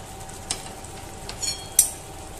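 Cooked beans are tipped into masala frying in oil in a pan, bringing a faint steady sizzle with a few sharp spatters and utensil clinks.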